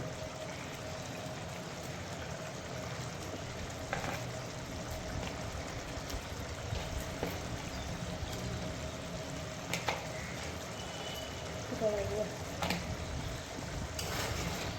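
Curry broth with tomato for tangra fish boiling in a pot, a steady low bubbling and simmering hiss that runs on evenly throughout, joined by a few faint clicks and taps and no talking.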